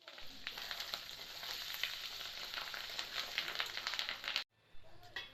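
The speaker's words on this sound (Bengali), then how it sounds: "আমি মাছের ডিম ভাজতেছি, দেখতে পাচ্ছেন" Fish roe fries in hot oil in a pan, making a continuous bright sizzle and crackle that cuts off abruptly near the end, with a short quieter sizzle after the break.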